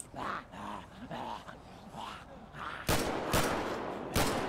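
In the GTA V zombie apocalypse mod, guttural growls and snarls give way to three sharp, loud gunshots fired at zombies, spaced unevenly over the final seconds.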